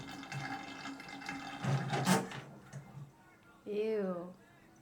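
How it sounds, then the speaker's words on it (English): Water gurgles and rushes down an unclogged shower and tub drain in a few uneven swells, with people talking over it. "Hear it draining faster?"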